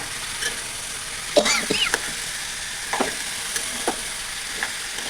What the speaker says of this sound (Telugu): వేసి కొంచెం అంతా కలబెట్టుకొని మూత పెట్టాలి.